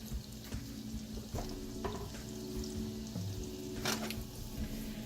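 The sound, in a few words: celery and onions cooking in melted butter for a roux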